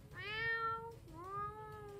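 A child imitates a cat, giving two drawn-out meows in a row, the first higher and longer, the second rising then falling, fairly quiet over faint background noise.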